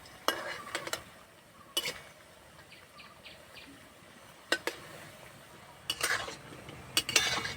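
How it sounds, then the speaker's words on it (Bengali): Semolina being stir-fried and turned in a pan to make a sweet, with soft continuous frying hiss broken by several sharp clinks and scrapes of a spatula against the pan, fairly quiet and close. "এইভাবে উল্টে পাল্টে বেশ করে লাল লাল করে ভেজে নেব।"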